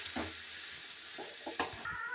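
Malabar spinach stems stir-fried in a pan with tempered spices, a steady soft sizzle broken by a few scraping stirs of a spatula over about two seconds, close and moderately quiet.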